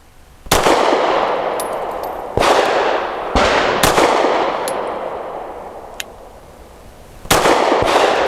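Grand Power P1 Ultra pistol with a rotating barrel firing Winchester Defender silver tip rounds outdoors, six sharp reports spaced irregularly across several seconds, each loud shot followed by a lingering echoing tail.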